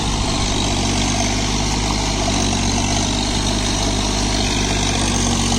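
A John Deere 3028 EN 28 HP mini tractor engine running steadily while puddling a field, a loud, continuous diesel drone with a deep low rumble and no pauses.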